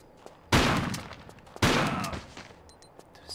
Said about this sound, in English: I'm shooting him directly.